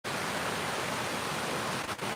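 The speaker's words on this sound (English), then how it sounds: "I hope the sound of the water isn't too loud because it's going to be quite prominent throughout our hike." A stream and waterfall rush steadily through a wooded gorge at night, a dense, even roar of water filling the whole clip, close and continuous with no voices.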